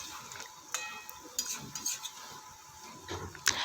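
Cooked Malabar spinach being stirred in a pot, with a few sharp utensil scrapes and clinks against the metal over a faint sizzle, fairly quiet and close.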